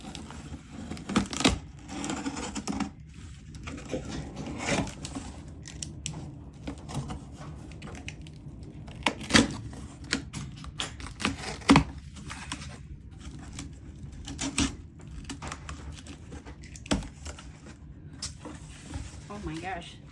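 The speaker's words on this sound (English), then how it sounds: "let's go ahead and cut it open and see what goodies we find" A cardboard box holding a $10 Michaels craft-store grab bag is cut open up close, with scattered scraping, tapping and tearing clicks in irregular bursts and soft rustling in between.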